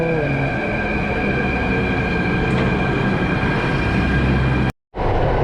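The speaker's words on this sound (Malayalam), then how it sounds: "നമ്മളെ ട്രെയിൻ വന്നിട്ടുണ്ട്, മെട്രോ" A Delhi Metro train rumbles loudly and steadily with a constant electric whine, the sound cutting out for a moment near the end.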